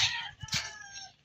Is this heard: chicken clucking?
yes